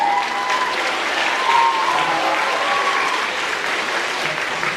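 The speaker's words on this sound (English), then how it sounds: "Let's give them a round of applause." Steady, full applause from an audience at a D.A.R.E. graduation honours the officers, continuing evenly throughout at close range.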